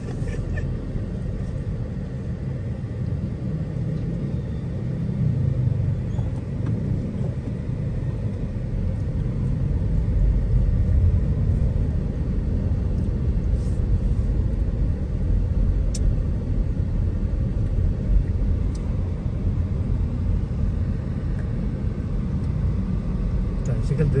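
Motorized tricycles and other vehicles move through busy Philippine traffic as a steady, broad engine rumble that swells slightly midway and persists for the whole stretch, with voices faintly present beneath the road noise.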